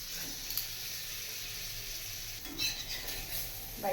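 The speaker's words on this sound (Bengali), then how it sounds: "বাটার দিয়ে এটাকে ভাজবো।" Meat sizzling gently in butter over low heat, a steady soft crackle throughout with a few light clinks of a spoon or pan near the end.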